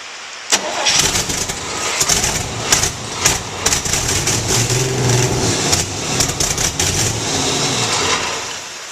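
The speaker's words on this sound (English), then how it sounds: "Let's give it a try just to see if she fires up." A replacement engine for a 1952 Chevy Deluxe, primed with starter fluid, cranks and catches at once, then runs loud and steady with a rough, pulsing idle and sharp revving bursts close by.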